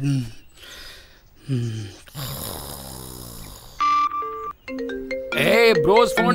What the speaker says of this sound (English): Oh, brother, the phone's ringing.